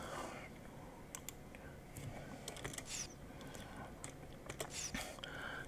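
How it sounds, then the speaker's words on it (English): Sharp computer clicks and light tapping scattered across a few seconds while navigating a streaming media add-on, fairly close and quiet, with faint speech-like sound underneath. "Let's click out of there."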